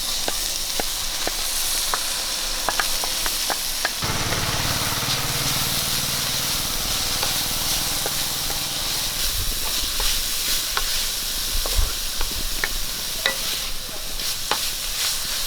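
Cooked snake gourd and dried shrimp sizzle and fry in a pan, with a steady hiss, scraping stirs and clicks of the utensil, loud and close throughout.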